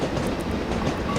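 A steam train from the game Train Simulator 2015, on the Somerset to Dorset route, runs with a steady, dense rumble and faint rhythmic rail clatter, with no breaks and no voices.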